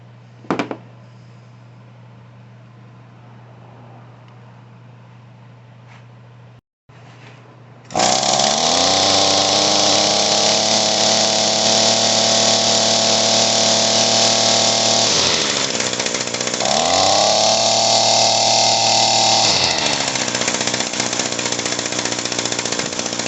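An Echo PAS 225 small engine with a new carburetor and coil fires up after a quiet low hum and a brief pause, then runs loud and buzzy near the listener, dipping twice in revs before picking back up.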